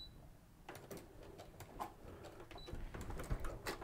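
A sewing machine fitted with a walking foot runs through doubled fabric layers, giving a steady, fast mechanical clatter of needle strokes with a few louder knocks, close by and with no talk.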